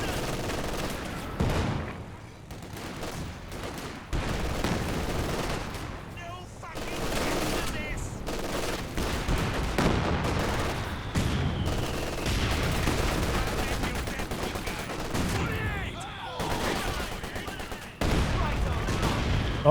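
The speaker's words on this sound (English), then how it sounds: "the heavy mortar's popping off" Heavy mortar and massed gunfire in the game Company of Heroes 2 during a 2v2 match, dense overlapping booms and rattling bursts continue for the whole stretch, loud and chaotic, with a voice talking at times over the battle.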